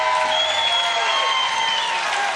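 Crowd at a Little League World Series baseball game, Goodlettsville, Tennessee against Bowling Green, Kentucky, cheering and applauding steadily after a hit, a dense wash of claps and voices with whistles holding throughout.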